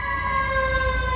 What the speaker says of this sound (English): Oh, that's a fire truck.